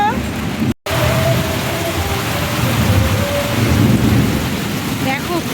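A thunderstorm pours heavy rain in a dense, loud, continuous hiss, with deep rolling rumbles of thunder beneath it and one brief dropout near the start.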